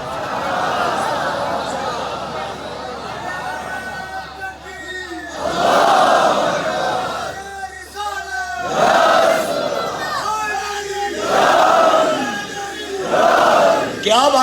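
A large crowd at a religious gathering in a wedding hall chants a slogan in loud, rhythmic bursts, roaring together several times in a repeated call-and-response pattern.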